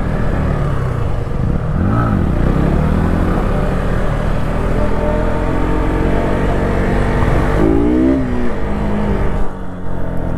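Sport motorcycles, a Yamaha R15 V4, R15 V3 and KTM RC 200, rev loudly during a drag race, with one popping a wheelie as the engine note rises and sweeps in pitch, steady and close throughout.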